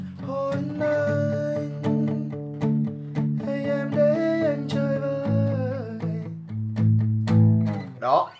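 Acoustic guitar strummed in a steady palm-muted rhythm with short choppy strokes, close and moderately loud, with a voice humming or singing softly along.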